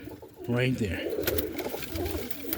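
A pigeon hen, an old 2014 foundation roller hen in a loft, gives a short coo under close, ongoing human chatter.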